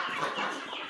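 Several chickens cluck and squawk continuously in a busy, close chorus on a bird farm, with no talking.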